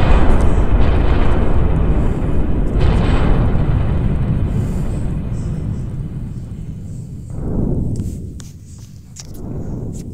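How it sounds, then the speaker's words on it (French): A star turning red and exploding in a solar-system destruction video game: a loud, deep, roaring rumble that fills the opening seconds, gradually eases off, then swells again in two shorter surges near the end. "Si je rapetis, quand ça devient rouge et ça explose"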